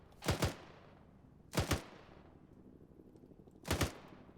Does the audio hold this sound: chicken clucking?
no